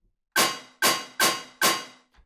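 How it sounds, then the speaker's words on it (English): Four punchy snare drum hits from a Moombahton beat, evenly spaced and loud with bright, noisy crack and ringing tone, each decaying quickly, followed by a faint soft tail at the end. "I've added some snares, and the first one sounds like this."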